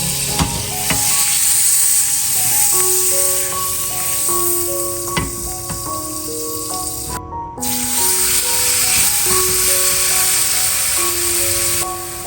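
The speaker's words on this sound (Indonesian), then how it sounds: "Nah, ini aku panggang pakai teflon dan aku kasih sedikit margarin." Marinated meat grilling in a Teflon pan with a little margarine gives a steady, loud sizzling hiss throughout, with a brief drop near the middle, under light melodic background music.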